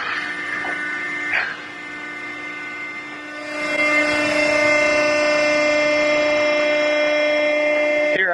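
A printing press machine advances its plate around a cylinder with a steady high mechanical whine and harmonic hum, a brief clunk early on, then a louder sustained drone that ends in a short click.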